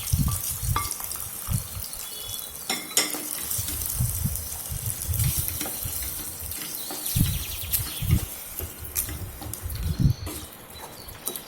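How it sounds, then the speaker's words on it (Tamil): A curry leaf tempering is poured into snake gourd kootu and stirred in, giving a brief sizzle and splash followed by repeated wet scraping and stirring strokes, with almost no talking. "கொஞ்சம் கறிவேப்பிலை தாளிச்சதை இந்த கூட்டில் ஊற்றி நல்லா கலந்து விட்டுக்கணும்."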